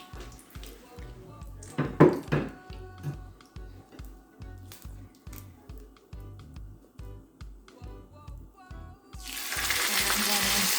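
Soft rhythmic music plays, then a loud hissing sizzle of fish hitting hot oil for Jamaican brown stew fish erupts near the end and carries on.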